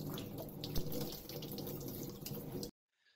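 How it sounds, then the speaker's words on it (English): Water pours from a household tap onto a hand in a steady, close, splashing rush, then cuts off abruptly near the end, leaving near silence. "the water runs down from the tap and hits our hand at a point two"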